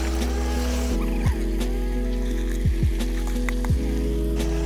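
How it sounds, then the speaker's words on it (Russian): Carrots frying in a kazan for pork plov, a sizzle running under the steady hum of a gas burner that dominates, with a few brief clinks or stirs along the way. "морковка уже где-то обжаривается минут 7, может быть даже больше"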